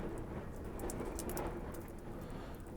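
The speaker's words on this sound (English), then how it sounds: "If you can hear noise behind me, it's very windy today, sorry." Steady outdoor wind rumble and hiss, fairly faint and continuous, with no voices.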